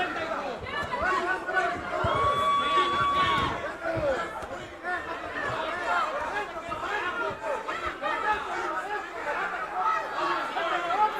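Crowd at a boxing event, a murmuring, chattering hubbub with scattered shouts under close commentary, and a brief whistle-like tone rising above it early on.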